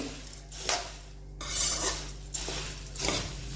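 Puffed rice is tossed into hot tempering in a pan with the gas turned off, giving a few bursts of rustling, scraping and clinking from a spoon against the pan, close and alone.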